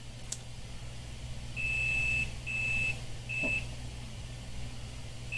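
Multimeter in diode mode beeping as its probes find a circuit line shorted to ground on a MacBook Air A1466 13-inch 820-3437 logic board: three clear, steady tones, the first two longer and the third short, over a low hum.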